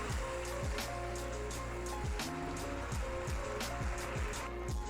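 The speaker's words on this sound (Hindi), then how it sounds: "मैं आपको यहाँ पे मैं हल्का सा पानी का छींटा दूँगी, तो सारा घी ऊपर आ जाएगा" Water is splashed onto the ghee in a pot of simmering chicken nihari, setting off a steady bubbling, popping sizzle that carries on throughout at close range.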